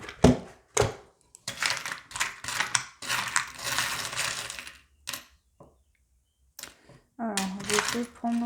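Small metal pendulum charms clinking and rattling as they are handled for a tarot card reading, in bursts of jingling and clacking alongside someone speaking French.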